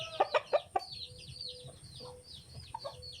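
A fighting rooster gives a few close, sharp clucks in quick succession, followed by softer scattered clucking and faint background chatter.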